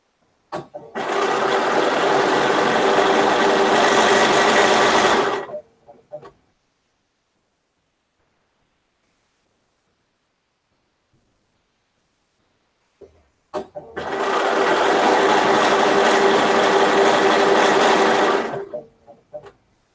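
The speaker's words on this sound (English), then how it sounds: "getting the hang of this sewing machine more than I did. It's just very sensitive, I've discovered." Home sewing machine stitching a quilt, two bursts of fast, even whirring of about five seconds each, separated by a long silent pause.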